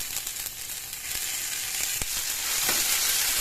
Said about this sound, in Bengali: এবার হিং আর 5 ফোড়নটাকে ততক্ষণই নাড়িয়ে নেব যতক্ষণ না পর্যন্ত এর থেকে একটা সুন্দর ফ্লেভার ছাড়ে।